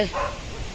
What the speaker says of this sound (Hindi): कुत्ते जोर जोर से भौंक रहे हैं